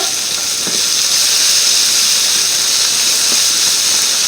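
Blood sausage fries in a pan with onion and apples, giving a steady, loud, close sizzling hiss that runs unbroken with a couple of faint soft knocks.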